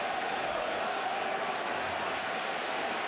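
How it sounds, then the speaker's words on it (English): Crowd noise from a packed baseball stadium during a 2006 playoff game between the Tigers and Yankees, a steady, dense roar of voices swelling into a rousing chant, continuous and loud throughout. "And then they've got a rousing "Let's Go Tigers" cheer going on."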